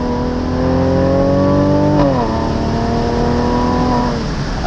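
Exhaust note of a 2017 Mercedes-AMG C43 Cabriolet V6 with performance exhaust, a loud, steady engine drone that shifts pitch partway through as the car changes gear, heard close and alone with no talk.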